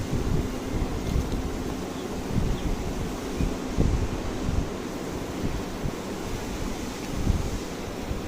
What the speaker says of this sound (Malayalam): വെള്ളം തിളച്ച് കഴിഞ്ഞ ശേഷം ഓഫ് ചെയ്യുക.